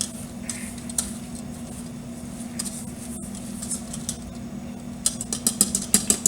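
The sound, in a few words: whisking cake batter with carrots, zucchini and apple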